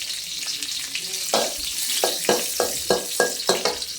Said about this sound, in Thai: เราจะตั้งกระทะใส่น้ำมันสักเล็กน้อยนะคะ แล้วก็ใส่เครื่องสมุนไพรของเราลงไปค่ะ